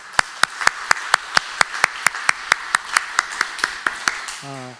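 A church congregation claps in a steady, evenly spaced rhythm to welcome guests at a Sunday service, about twenty sharp claps in a row, with a brief voice starting to speak at the very end.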